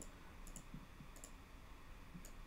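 Faint, crisp clicks come in small pairs at a steady pace over a quiet background hum, close by and soft, with no talking.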